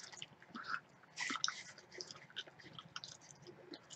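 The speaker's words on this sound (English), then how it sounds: "Oh, I can hear it chewing. So much chewing." Soft, wet chewing and smacking sounds of Hubba Bubba bubble gum up close, quiet and irregular, with faint crunchy bits.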